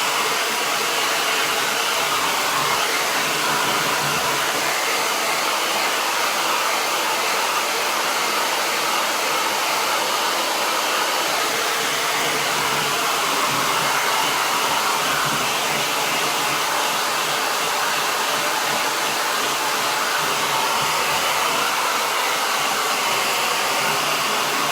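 Hair dryer blasting at full power over chalk mineral paint on furniture, a loud continuous roar of airflow holding steady for the whole stretch with no talk.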